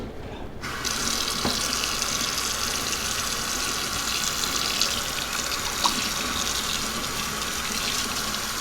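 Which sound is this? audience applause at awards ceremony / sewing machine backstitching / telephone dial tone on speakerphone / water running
water running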